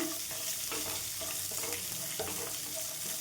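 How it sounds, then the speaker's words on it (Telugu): Finely grated onions fry in oil in a pan for puffed rice upma, a steady close sizzle with light stirring and clinking of the spoon, running without a break and with no talking. "ఆనియన్స్ కొద్దిగా మనకి ఫ్రై అయ్యాయండి"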